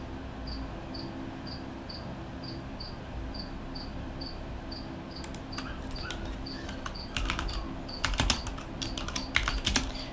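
Soft, quick keystrokes clatter on a computer keyboard in an irregular, closely miked rhythm, with steady cricket chirps pulsing in the background and no talking.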